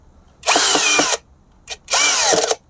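A power drill set to a torque setting whirs in two loud bursts while driving screws on the air filter cover of a Sym Cruisym 250i scooter, each burst about a second long, with a short blip between them.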